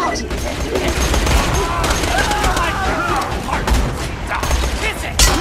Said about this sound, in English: This gun is awesome, but it has a ton of kick to it.